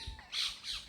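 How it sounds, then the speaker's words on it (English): Goose call, a single short nasal honk of under a second, clear and fairly close with no other sounds. "So this is the goose."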